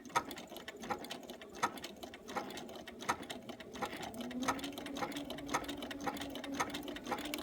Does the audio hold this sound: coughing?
no